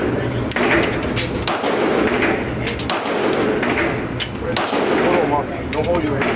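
Gunshots ring out at an indoor gun range, loud and frequent over a constant din, with people talking throughout.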